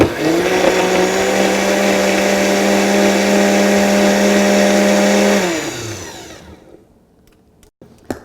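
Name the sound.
blender mixing coquito ingredients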